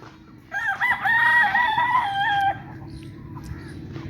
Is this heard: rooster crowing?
yes